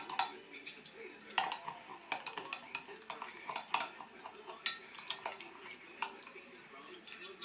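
A utensil stirs thick soap batter in a container to work in colorant, giving irregular clinks and scrapes against the sides, fairly quiet and close.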